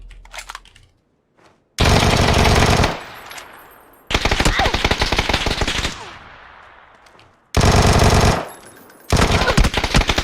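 Vector submachine gun fire in PUBG comes in loud, close, rapid full-auto bursts, about four long strings separated by short pauses and fading tails, with no talk over them.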